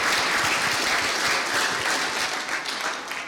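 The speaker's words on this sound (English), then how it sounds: "let's have a round of applause for our speakers" Audience applause for the speakers at the TNC15 networking conference session on eduroam: a full, even burst of clapping from a sizable room that tapers slightly toward the end.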